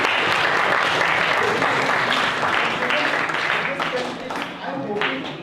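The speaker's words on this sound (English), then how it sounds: "a big round of applause for" Students at a school in Nainital applaud after a class speaking activity, brisk energetic clapping from a room full of hands, loud at first and thinning slightly toward the end.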